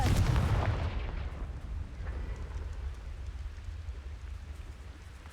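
A Confringo fire spell blast in the video game Hogwarts Legacy, a loud booming burst at the start that trails off into a long, steady crackling rumble.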